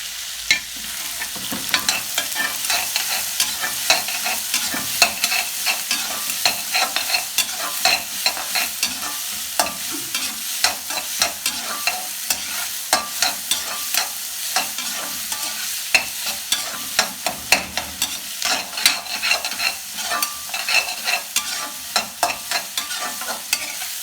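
Onions for a mango egg prawn curry sautéing in a pan, a constant low sizzle broken by a long run of quick, regular spatula taps and scrapes, near and fairly loud with no speech.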